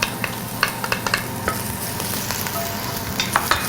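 Half a cup of sliced white onions cooking in olive oil, giving a close, busy sizzle punctuated by sharp spoon taps and stirring scrapes against the pot, with no talking.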